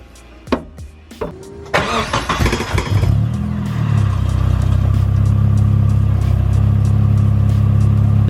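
A Nissan 240SX engine starts and settles into a steady, loud idle-to-midrange run held around 2,000–2,500 RPM, a continuous close drone after a few sharp clunks and a brief starter churn.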